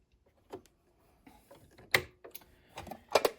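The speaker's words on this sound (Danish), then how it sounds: "ved at skyde det her lille greb til den modsatte side. Så går transportøren ned." A Husqvarna Viking H Class E20 sewing machine has its feed dogs lowered by sliding a small lever under the free arm, giving a few quiet, close mechanical clicks and ratcheting taps spread over a few seconds.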